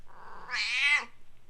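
A cat gives one drawn-out, rising meow, close and clear, in an otherwise quiet setting.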